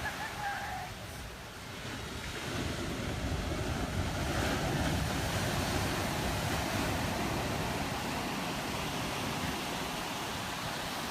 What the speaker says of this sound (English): Can you guys hear me over these waves?